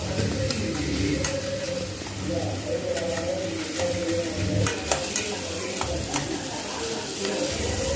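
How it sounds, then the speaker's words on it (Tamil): Garden-grown onion leaves sautéed with already-softened onions in a pan give a steady sizzle under repeated stirring scrapes of a spatula, while a voice talks over the cooking. "அதுக்கப்புறம் ஆனியன் லீஃபை போட்டு வதக்குறோம்"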